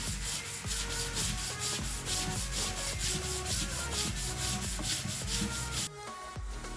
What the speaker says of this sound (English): We'll sand this down and then we'll go on for another coat.